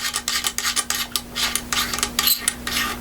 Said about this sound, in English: Take your other tool with the 1/2 inch socket in there, jam it in there, and you can unscrew your end cap.